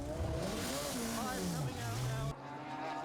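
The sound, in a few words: race car leaving the pits at Donington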